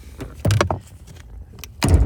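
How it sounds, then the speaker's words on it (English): The hood release of a 2020 Jeep Grand Cherokee V6 is pulled and the hood pops open, giving a few sharp mechanical clunks and thuds close by, separated by short quiet gaps. "And when you pop your hood, you should hear a clunk and it rise up some."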